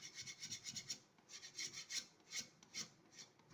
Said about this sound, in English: as I'm scraping